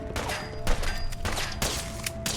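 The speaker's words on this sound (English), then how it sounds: "Who's shooting at us?" Rapid gunfire in the Fallout 4 game world, several bursts of shots in quick succession with short gaps, fairly close and moderately loud, no voices.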